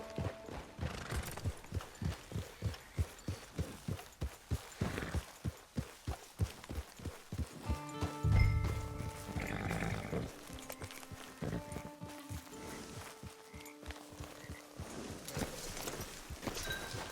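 Steady clip-clop of horse hooves at a walking rhythm in Red Dead Online, with a whinny and snorting partway through, over the game's musical tones.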